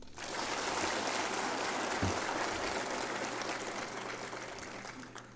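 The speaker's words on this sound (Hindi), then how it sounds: "अपने लिए एक बार ज़ोरदार ताली मारिए" An audience at an Assam Rifles honour ceremony for retirees breaks into sustained applause, a dense even patter of many hands that starts abruptly and carries on steadily before easing slightly.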